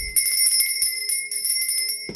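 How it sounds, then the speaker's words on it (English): A small bell rung to cleanse the space gives a single bright, sustained ring with shimmering overtones that holds steady for about two seconds, close and clear, without talk. "Right, I'm going to be ringing this bell."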